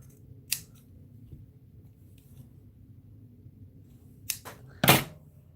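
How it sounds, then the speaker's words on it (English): Scissors snip out a tiny paper sentiment for a napkin card, a few sharp, close cutting clicks spaced apart over a quiet room background. "I'm just going to cut that out."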